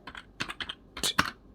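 Fingers tap a computer keyboard in a short burst of about eight quick, close keystrokes, with brief gaps between clusters.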